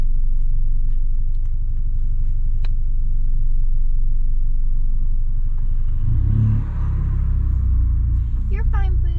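A Volkswagen Scirocco engine rumbles loud and close while driving, then swells into a deep, heavy rev partway through. Voices can be heard over it.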